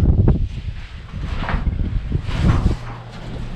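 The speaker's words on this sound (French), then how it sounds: "Vous entendez le vent" Steady rushing wind through an abandoned tunnel with low rumbling gusts, broadband and continuous, swelling a couple of times and then settling into a low hum.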